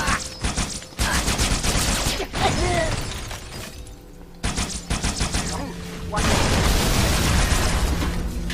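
Grenade blast amid heavy gunfire in the Halo ODST video game, with rapid bursts of shots, sharp cracks and booms in clustered volleys broken by brief pauses.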